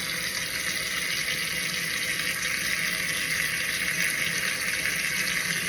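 Steady rush of running tap water into a sink while eggs are scrubbed beneath it, a loud continuous hiss with no pauses.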